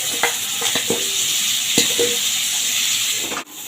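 Cauliflower pieces frying in hot oil in a home kitchen, a steady sizzle with scattered stirring clinks and taps.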